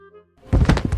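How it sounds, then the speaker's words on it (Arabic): A person falls and hits the ground, a dull thump followed by a cluster of heavy impact and scuffle noises at close range, with no talk during the fall. "انت وقعت؟"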